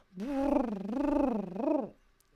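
A human voice imitates pigeons cooing, one sustained warbling, wavering coo that rises and falls, close and alone with no other talk.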